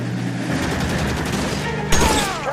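Gunfire in the video game L.A. Noire: a dense burst of rapid shots fills the scene, with a sharp louder blast near the end over a busy game soundscape.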